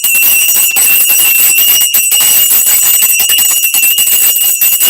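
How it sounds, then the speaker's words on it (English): A bell rung steadily and loudly up close, its bright sustained metallic ringing filling the whole stretch without pause and with no speech. "I'm going to ring the bell and clear any negative energy."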